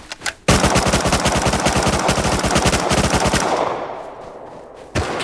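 Gunfire in the video game Rust: a long, loud burst of rapid automatic fire with tightly spaced shots, trailing into echo, then a single shot near the end.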